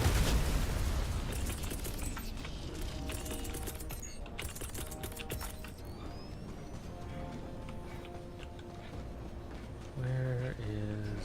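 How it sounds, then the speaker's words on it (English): A grenade explodes in the shooter game Helldivers 2 with a heavy burst at the start, then a dense mix of gunfire, effects and music continues at steady loudness. "Grenade!"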